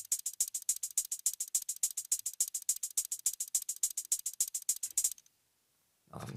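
A programmed hi-hat pattern in FL Studio ticks in steady even eighths, every second hit softer in velocity, crisp and close for about five seconds before cutting off, then a low thump enters.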